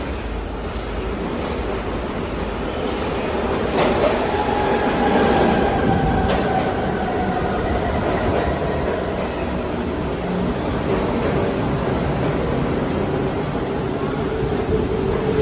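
A four-car PATCO Speedline train pulls into a station platform, a steady loud rail rumble with faint squealing tones and occasional clicks building across the whole stretch.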